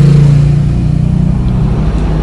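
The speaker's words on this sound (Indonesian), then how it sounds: "Ada mobil." A car rumbles past close by, a brief steady engine and tyre drone near a cave site, heard alone without talk.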